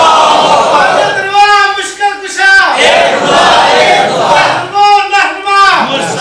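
A large crowd at a religious gathering loudly chants a religious slogan in unison, with repeated bursts of shouting separated by brief dips.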